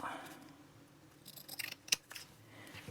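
Scissors cutting paper for a daily-spread playlist card, a few short crisp snips clustered in the middle, close and fairly quiet, with no talking.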